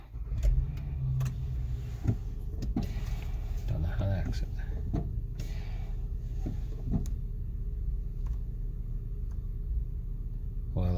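Engine of a 2017 Acura MDX running steadily at idle close by after being started, with a low continuous hum and occasional clicks and knocks, while someone talks over it.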